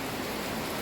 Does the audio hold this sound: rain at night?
yes